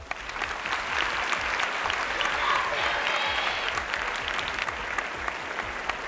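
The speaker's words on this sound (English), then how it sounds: "let's give a round of applause to Theuni" Applause for a contestant stepping up at a pentathlon grand finale: a dense, sustained wash of many hands clapping, loud and even throughout with no pause.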